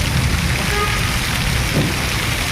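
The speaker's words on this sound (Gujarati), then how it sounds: "આજે મોરબીમાં જોરદાર વરસાદ છે." Heavy monsoon rain in Morbi, Gujarat pours down in a loud, steady hiss of drops hitting surfaces, continuous throughout.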